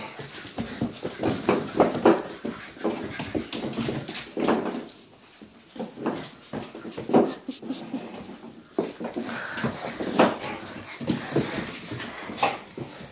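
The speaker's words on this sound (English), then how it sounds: "Puppies!" Young puppies, about eight and a half weeks old, whimper and breathe close by while an older dog plays gently with them, soft whines and pants coming in uneven bursts throughout.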